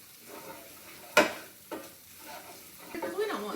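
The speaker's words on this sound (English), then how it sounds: "I'm going to stir that around." A spoon scrapes and clinks around a pan of sausage gravy, a few sharp knocks and soft stirring strokes over a faint simmer, close and fairly quiet.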